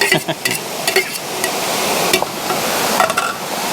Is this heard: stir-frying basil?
yes